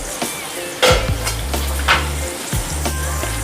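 Okra sizzles steadily as it fries in a pan for a spiced masala bhindi dish, with a few stirring scrapes along the way. There is no talk.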